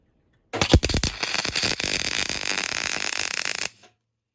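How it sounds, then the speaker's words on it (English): MIG welder tacking a bolt into a stripped thread on a Classic Mini cylinder head: a few sharp pops at the strike, then about three seconds of steady, loud, close crackling buzz that cuts off abruptly. "we'll just MIG weld this bolt into position"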